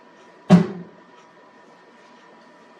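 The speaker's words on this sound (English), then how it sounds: "Can you hear the sound of the closing door?" A door closes with a single dull thud that rings briefly and then fades into a quiet room.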